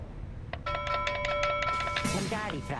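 A bell in a video game is struck again and again: a quick run of bright, ringing chimes with sustained tones, followed by a person starting to talk as the ringing fades.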